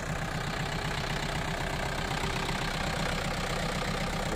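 A tractor engine idles in a park being landscaped, a steady even rumble with a faint rhythmic knock, heard at moderate distance and unbroken throughout.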